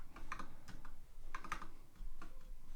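Someone types on a computer keyboard while writing code, a quick run of close, soft key clicks in short irregular bursts with brief pauses.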